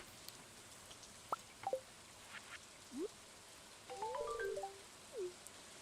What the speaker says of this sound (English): Is Pam standing in the rain